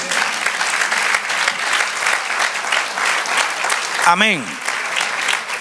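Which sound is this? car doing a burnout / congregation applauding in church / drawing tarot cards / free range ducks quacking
congregation applauding in church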